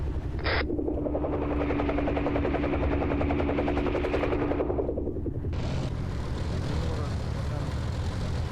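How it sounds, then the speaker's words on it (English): A heavy MI-26 helicopter in a military video game flies overhead with a loud, steady rotor roar and thumping blades, while gunfire-like bursts and voices mix in the background. "that's an MI-26 in the middle of the fucking sky that can see us right now"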